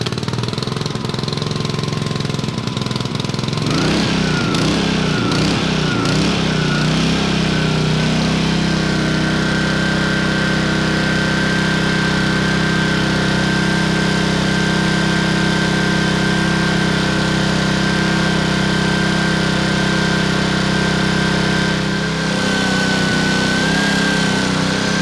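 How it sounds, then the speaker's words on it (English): A small cold petrol engine with the choke applied sputters, catches and settles into a steady, buzzing idle that runs on loudly without pause. "since this is a cold engine, we're going to apply the choke"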